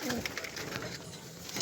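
Pigeons perched together coo in soft, low, repeated rolling calls, fairly close but quiet, over a faint hiss of background noise.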